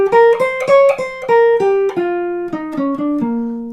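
Jazz guitar chord soloing in a bright, major early-swing style, with crisp strummed chord stabs moving stepwise downward, close and clear, played alone without speech.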